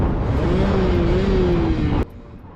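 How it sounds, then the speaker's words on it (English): A Rieju MRT 50 Pro SM motorcycle with an aftermarket exhaust runs with a steady, buzzy engine note that wavers slightly in pitch, then cuts off abruptly near the end, leaving a quiet background. "This is my Rieju MRT 50 Pro SM, and I quite like the sound of it."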